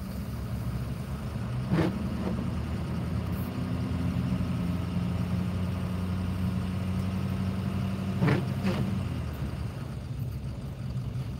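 A four-wheel-drive vehicle creeps slowly along a snowy, slick highway in second gear, its engine holding a low, steady hum with a couple of brief clicks or knocks along the way.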